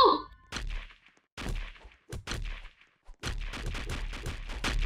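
Gunshots in a Roblox break-in game, several sharp shots in quick bursts separated by brief silences, then a denser stretch of rapid fire, close and loud with no talk.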